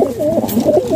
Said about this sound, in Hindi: सारे नौजवान कबूतर हैं, कोई भी कबूतर बूढ़ा नहीं है